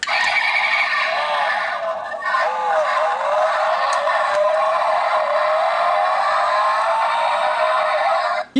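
A toy Porsche model car plays its electronic engine-start sound effect, a loud synthesized whirring rev with shifting tonal pitch that runs steadily and then cuts off abruptly.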